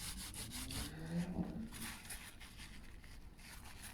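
Glue being rubbed off a refurbished hospital bed surface with acetone on a cloth, a faint rhythmic back-and-forth scrubbing close to the microphone.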